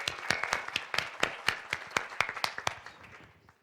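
Applause for a speaker at a science symposium: a modest audience clapping in a fairly sparse, distinct rhythm of individual claps that thins out and fades over a few seconds.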